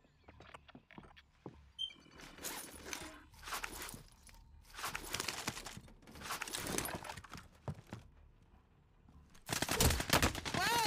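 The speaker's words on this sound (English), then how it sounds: "They're shooting at them right now." Gunfire in an online shooter video game, bursts of shots and rattling fire in several separate bursts of different lengths with short quiet gaps, moderately loud and fairly close, no talk.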